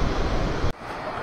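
Strong wind roars steadily in an early-morning outdoor setting, a dense broadband rush that briefly cuts out and then resumes, loud and close to the microphone with no voices.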